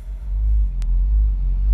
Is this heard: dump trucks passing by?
yes